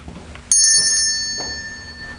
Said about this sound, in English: I'll ring the bell.